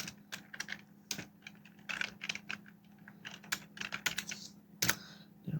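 Fingers type a search phrase on a computer keyboard, irregular close key clicks in quick runs with short pauses, over a faint steady hum.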